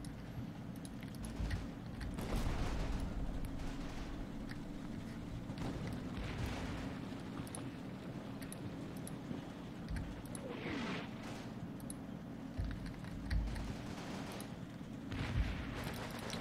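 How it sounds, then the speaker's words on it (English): Artillery shelling in the wargame Combat Mission Red Thunder during a village attack, a steady string of distant booms and thuds over a low rumbling background, fairly faint throughout. "It looks like, yeah, we're shelling the front portion of it."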